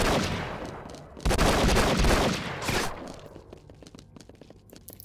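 Loud bursts of automatic gunfire in the video game Enter the Matrix, heavy for the first few seconds, then thinning to scattered sharp shots and clicks as the shooting tapers off.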